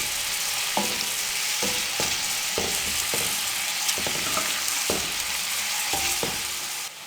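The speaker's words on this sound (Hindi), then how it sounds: "मीडियम फ्लेम पे प्याज़ों को अच्छे से भून लें जब तक ये हल्के गुलाबी ना हो जाएं" Onions sizzle steadily in oil over a medium flame, with a constant hiss broken by periodic scraping stirs every second or so, close and clear, with no talking.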